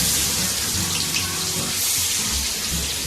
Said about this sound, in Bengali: এবারে দেখো আমি পেঁয়াজগুলো দিয়ে দিলাম একে একে।